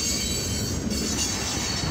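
Tail end of an eastbound CFE mixed freight and steel train rolling past a grade crossing, a steady close rumble of rail cars with wheel squeal and faint clickety-clack, no talking.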